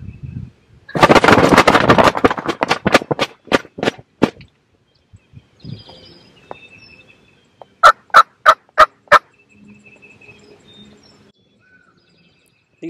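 Wild turkeys gobbling in spring woods, a loud rolling gobble burst followed by several sharp repeated calls, then quieter stretches and a second tight series of four or five loud gobbles.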